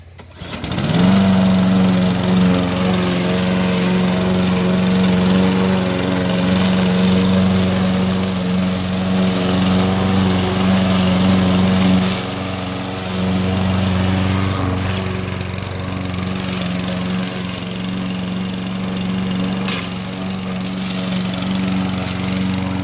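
A Husqvarna 725EX Series lawn mower engine catches after a brief pull and settles into a loud, steady drone that runs continuously, slightly dipping in pitch midway.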